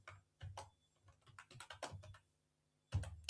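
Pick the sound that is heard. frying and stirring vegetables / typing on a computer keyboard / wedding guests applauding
typing on a computer keyboard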